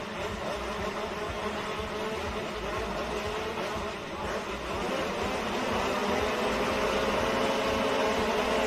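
A pack of 125cc motocross bikes revs on the start line at Hawkstone Park during a British Championship race, a dense, continuous engine drone that swells slightly toward the end.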